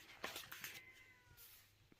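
A cat meows several times in short, insistent calls, fairly close, with one longer drawn-out meow in the middle.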